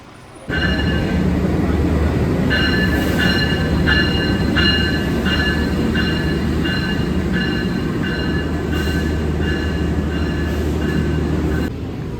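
A passenger train departing Surabaya Gubeng station rumbles steadily and loudly past, with heavy low-end roar, a sustained high whine or horn-like tones, and clattering wheels before cutting off.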